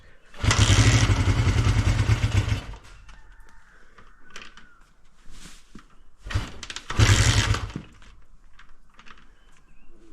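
A Honda CB125 twin motorcycle with two carburettors is started and idled, close by. The engine makes two loud bursts, each lasting a couple of seconds, with quieter mechanical clatter and a fainter revving between them.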